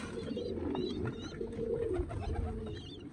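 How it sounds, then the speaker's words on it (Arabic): Shadhri pigeons with white eyes coo softly in low repeated murmurs, close and fairly quiet, with faint chirps from other birds behind. "هنا ذني زوج شذريات عيون بيض"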